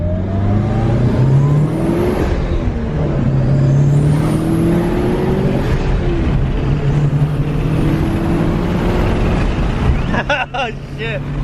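A Mitsubishi Evo 8 rally car drives with a loud, continuous engine note that rises and falls as it revs through the gears, ending with a few sharp clatters.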